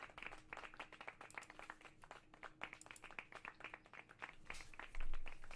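Quiet, uneven clapping from a small group, sharp hand claps landing irregularly, with a brief louder thump near the end.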